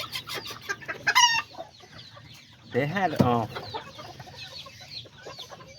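Silkie chickens, a rooster and hens, cluck and chatter close by, with a burst of squawking partway through, while a person speaks briefly over the birds.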